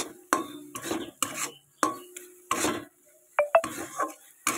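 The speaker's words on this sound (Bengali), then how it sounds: "দিয়ে এটাকে সুন্দর করে নাড়াচাড়া দিতে হবে।" Carrot laddu mixture stirred in a pan over a gas flame: a series of distinct scraping, knocking strokes of a spoon against the metal pan, about nine or ten in an uneven rhythm, close and fairly quiet, with no talk.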